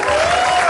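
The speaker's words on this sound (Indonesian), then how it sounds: "tepuk tangan dulu dong" A studio audience claps in applause, dense and steady, a brief burst heard alone without talk.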